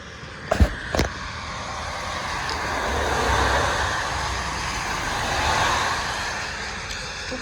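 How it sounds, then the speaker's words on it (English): Cars driving past on a road near an old bridge, rising and fading as two broad swells of tyre and engine noise, preceded by a couple of sharp knocks close by. "Two cars go by."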